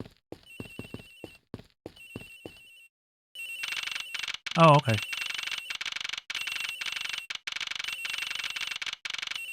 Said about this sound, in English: It sounds like the phone is up in the flight attendant's room.